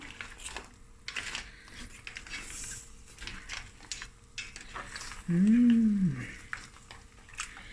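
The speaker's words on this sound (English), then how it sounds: "Give it a stir." A creamy mussel curry with a squeeze of lemon is stirred in a pot, giving soft scraping and sloshing sounds throughout, with a brief steady hum near the end.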